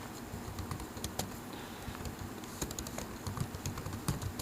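Quick, uneven keystrokes on a computer keyboard while typing an official Pashto letter, clicking steadily and close by with no talking.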